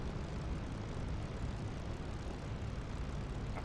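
A P-51D Mustang's piston engine warms up in the DCS flight simulator, a steady, dense, broadband roar at constant loudness with no pauses throughout.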